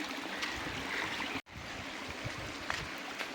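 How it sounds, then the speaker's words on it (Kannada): Water from a hidden waterfall pours steadily over rock boulders in a forest stream, a continuous broadband rush with a brief dropout midway and no voices. "ನೋಡಿ ಈ ಕಡೆಯಿಂದ ನೀರು ಬರೋದು ಹಿಂಗೆ ಬಂದು ಇದೇ ಥರನೇ ಬರ್ತಿರ್ತವೆ"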